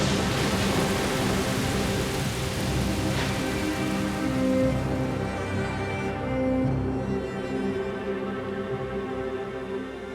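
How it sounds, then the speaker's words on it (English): Heavy rain pours down in a steady, dense hiss that carries on without a break. A faint rumble sits beneath it, and the rain eases slightly near the end. "Then the rain started to pour."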